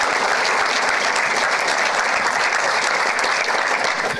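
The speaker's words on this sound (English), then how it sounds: "One applause for TSOS." Loud, dense applause from an audience at a makeathon final pitch event, steady and continuous throughout as a team is welcomed onto the stage.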